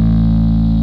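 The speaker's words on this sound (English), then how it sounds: "you're probably using a pretty heavy distortion tone that's going to sustain for a long time" Bass guitar run through a heavy distortion pedal with a TC Electronic Gravity compressor, a First Act distortion and a Singlecross, holding one loud, thick, sustained note with no break.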